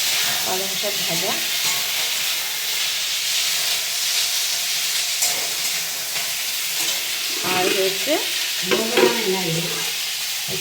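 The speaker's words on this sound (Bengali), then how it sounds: "পালং শাক ভাজা," Spinach fries in a pan with a steady hiss and sizzle, broken by scraping stir strokes, while a person talks briefly over the cooking.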